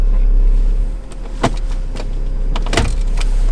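A prototype Ineos Grenadier with a 3.0 petrol B58 engine and an 8-speed ZF gearbox engages its center differential lock in high range, giving a couple of sharp mechanical clunks and a short actuator whir over the low cabin drone.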